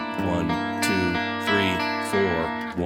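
A distorted electric guitar plays a bending, sliding riff modeled on a song's interlude, with sustained notes and short pauses, close and fairly loud.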